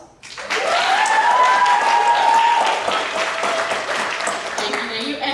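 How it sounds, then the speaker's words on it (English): Sustained audience applause at a live art talk, a dense wash of many hands clapping at full strength that rises quickly and carries on steadily, with faint tonal chatter mixed in early on. "Hold for applause."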